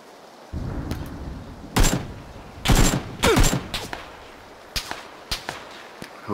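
Gunfire in a battle royale video game duos match: several sharp shot bursts, some clustered in quick succession, others isolated, over a steady low game ambience with no talking.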